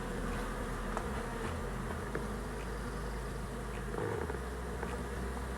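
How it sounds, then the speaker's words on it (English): A swarm of honey bees buzzing outdoors in spring, a dense, steady droning hum that stays at an even level, moderately near, with no voices. "I guess it could just be a bunch of bees"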